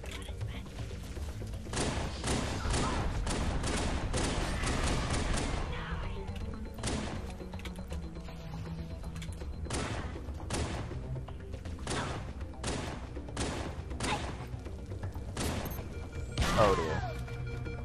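Halo 3 combat: a rapid string of grenade blasts and gunfire bursts, sharp repeated thuds and cracks spread across the clip, with more scattered explosions later, no talk heard.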